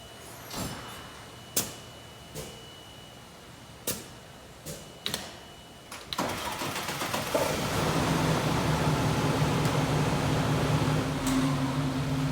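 A few sharp clanks and knocks, then a fire engine at a fire station rumbles to life and keeps running steadily, loud and close.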